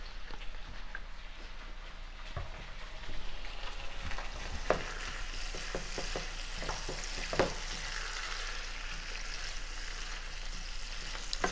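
Vegetables sizzle in a hot pan after a dash of cooking wine, a steady close hiss of frying with scattered pops and stirring scrapes throughout and no talking.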